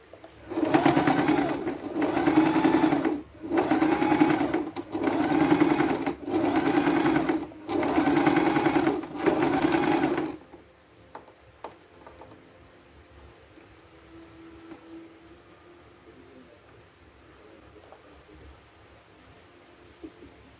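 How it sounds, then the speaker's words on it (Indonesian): A sewing machine stitching a 3D cloth face mask runs in about six steady, loud bursts with short pauses between them, then stops, leaving a quiet room. "kita mulai menjahit"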